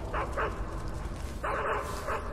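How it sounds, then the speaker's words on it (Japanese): A guard dog in the video game Metal Gear Solid 3 barks in two quick pairs of sharp yaps, loud and close, over a constant hum of jungle game ambience. "犬いる。"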